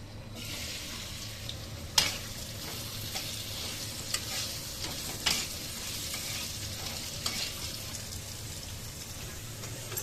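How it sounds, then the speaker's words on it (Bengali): Potatoes fry in oil in a pan with a soft, steady sizzle. Spoon or spatula scrapes and taps punctuate it every second or so, and one sharp clack stands out early on. No one speaks. "আলুগুলি ভাজা হয়ে গেছে"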